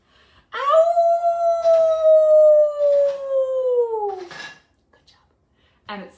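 A person lets out one long, rising-then-falling wolf-like howl lasting several seconds, clear and close, followed by a short second vocal burst; it is a human voice imitating a wolf.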